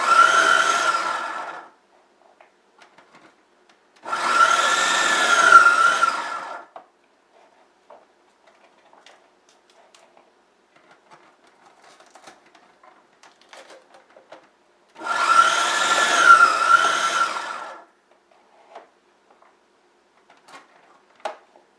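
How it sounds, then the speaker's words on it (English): Food processor fitted with grating and chopping blades shredding cauliflower for low-carb faux fried rice: three loud, close whirring bursts of a few seconds each, separated by quieter stretches with small knocks and rattles. "We're going to send it through the food processor with the grating blade and the chopping"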